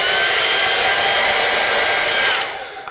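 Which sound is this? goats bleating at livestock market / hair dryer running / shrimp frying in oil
hair dryer running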